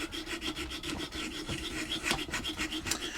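A fine-grain file rasps steadily across a wooden guitar fretboard being scalloped, close and loud in quick back-and-forth strokes with no talk.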